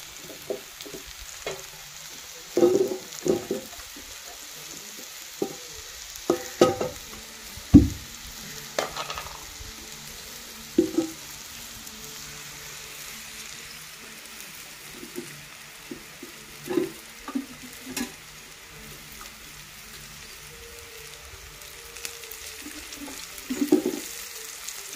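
Oil frying in a pan in a home kitchen, a soft steady sizzle broken by scattered clinks and knocks of a utensil against the pan, close and fairly quiet.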